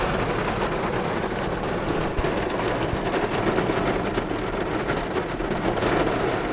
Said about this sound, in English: we got a rain delay